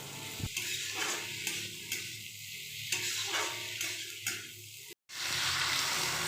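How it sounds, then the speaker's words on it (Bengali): Small potatoes frying in a pan, a continuous close hiss of sizzling oil broken by repeated scraping stirs, with a brief dropout near the end. "আলুগুলি দিয়ে আবার দু মিনিটের মতো ভেজে নেব"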